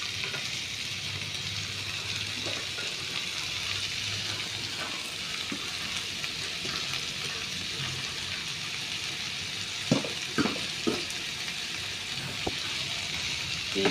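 Chopped banana flower frying in a pan for a Goan bhaji: a steady, close sizzle throughout, with a few light clinks and scrapes of stirring near the end.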